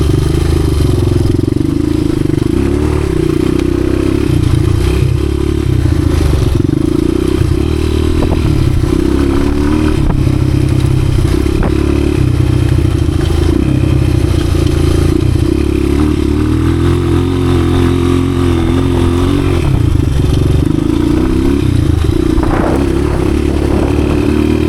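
A 1986 Honda XR200R dirt bike engine runs steadily in third gear on a leaf-covered trail, a loud continuous mid-pitched drone with slight clatter and small throttle variations, close to the listener.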